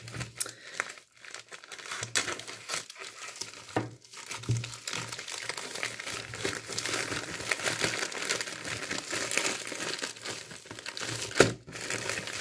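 Plastic packaging from a diamond painting kit crinkles and rustles almost continuously during an unboxing, with brief tearing and crushing noises and occasional short pauses.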